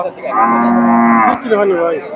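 A cow at a Bogura cattle market lets out a single loud, near, sustained moo that bends at the end and trails into a lower grumble.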